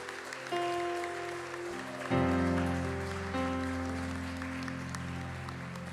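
A church congregation claps together in a quiet, even patter. Sustained keyboard chords play underneath the clapping the whole time.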